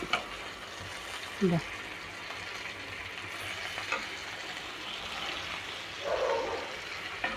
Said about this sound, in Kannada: ಇವಾಗ ಇದನ್ನ ನಿಧಾನವಾಗಿ ತಿರುಗಿಸ್ಕೋಬೇಕು ಹೋಳು ಮುರಿಬಾರ್ದು